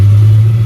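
Supercharged 1961 Studebaker Hawk engine, running again after five and a half years parked, giving a loud deep droning rumble that holds steady and fades slightly at the end.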